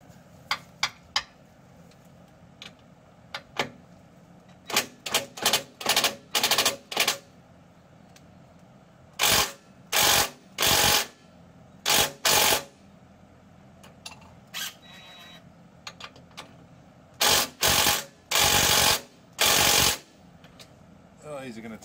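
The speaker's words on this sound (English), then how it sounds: "let's get the rattle gun out" Pneumatic impact wrench working on a trailer hitch, firing in short loud rattling bursts separated by pauses, repeated in several clusters, with quiet workshop background between hits.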